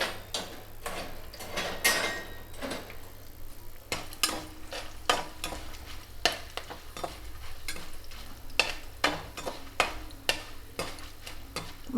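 Dried red chillies frying in hot oil, a steady sizzle broken by frequent sharp ticks and clatters of stirring in the pan, with no talking.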